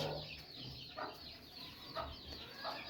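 Rooster and hens cluck softly in a farm coop, several short calls repeating at intervals over a steady hiss of background noise, faint and somewhat distant.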